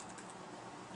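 Typing of a web address on a computer keyboard, a steady stream of soft key clicks that run without pause through a short stretch, fairly quiet and close, with no voices.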